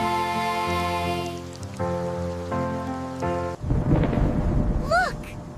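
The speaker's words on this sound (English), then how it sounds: "The rain is going away!" Sustained music gives way to a sudden burst of heavy, hissing rain with a low thunder rumble. The downpour stays loud and close through the end, with a brief high chirp near the finish.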